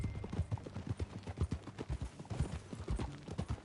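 Horse hooves clip-clop in a steady, close trotting rhythm while riding in the video game Red Dead Redemption 2, with no talking over the hoofbeats.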